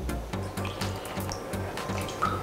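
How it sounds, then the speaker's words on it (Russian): Kefir poured into a pot over finely chopped fillet pieces, a steady liquid gurgle with soft repeated glugs and drips, close and continuous for a couple of seconds. "Затем я наливаю туда кефир"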